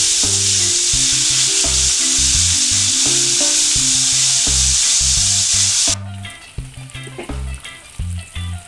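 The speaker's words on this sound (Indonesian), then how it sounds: "Lanjut penggorengan berikutnya" Tempeh fries in a pan of hot oil, a loud dense sizzle with utensil clatter and stirring knocks; the sizzle suddenly drops away partway through, leaving quieter clinks and scrapes.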